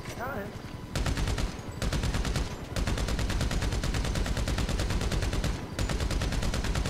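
Sustained rapid automatic gunfire in GTA Online aimed at a helicopter's tail rotor, loud dense bursts broken by brief pauses, with a voice speaking faintly at the start.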